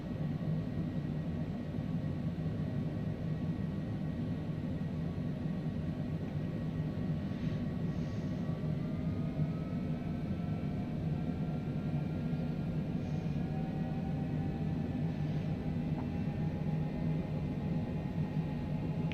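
An airplane drones steadily in Microsoft Flight Simulator on a flight from Miami Executive toward Port-au-Prince, a constant engine hum with faint shifting tones lasting the whole stretch and no talking.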